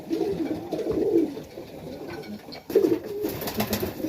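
Young Serbian highflyer tippler pigeon nestlings coo up close in low, soft bursts that rise and fall across several seconds, alone without talk.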